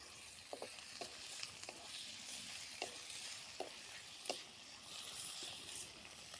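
Green chilies stirred through oil in a hot pan, a steady soft sizzle with scattered scraping and tapping of the spoon against the pan, close and fairly quiet, with no talk.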